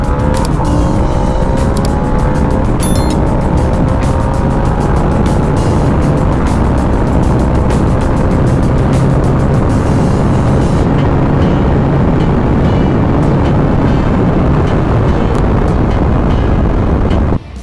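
A Harley-Davidson Sportster S and a 600 sport bike accelerate hard together in a second-gear roll-on from 40, engines roaring loud and close and rising steadily in pitch for about ten seconds before the sound drops off.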